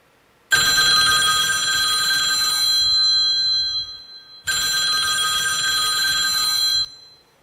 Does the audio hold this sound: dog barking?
no